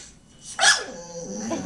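A dog gives a short high whine partway through, close and fairly loud, followed by soft breathing and faint sniffing.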